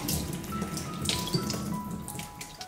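Running tap water splashes over a cucumber being washed, close and uneven spatters and drips with small handling knocks, no talking.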